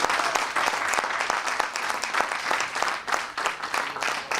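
A church congregation applauds in praise, dense sustained clapping from many hands filling the room without pause.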